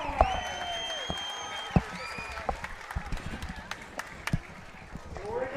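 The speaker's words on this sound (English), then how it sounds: "one more big round of applause" At an outdoor demolition derby track, scattered, thin clapping comes from a spread-out crowd, sharp isolated claps popping over faint tonal sounds and background noise rather than a full ovation.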